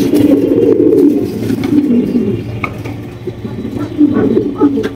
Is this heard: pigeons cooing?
yes